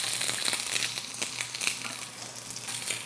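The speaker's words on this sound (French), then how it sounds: "On met notre magret dans la poêle bien chaude." Duck breast frying in a very hot pan with olive oil, a steady close sizzle with crackling pops scattered throughout.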